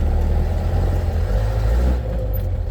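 A Jeep engine driving on the road with double-clutch gear changes, a loud steady low rumble that eases slightly near the end as the revs change.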